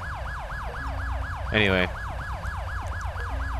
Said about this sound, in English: I really don't know whose siren's on.